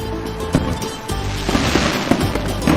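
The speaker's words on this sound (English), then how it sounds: "This is what the biggest fireworks display ever looks like" Dense fireworks display at the launch of the Atlantis hotel in Dubai, with a continuous rumble of bursts and several sharp cracks and pops rising through the roar, loud and close throughout.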